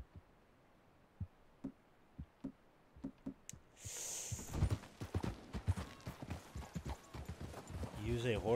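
Horse hooves in Red Dead Redemption: sparse, evenly spaced clip-clops at first, then a dense, louder galloping rhythm as the horse speeds up.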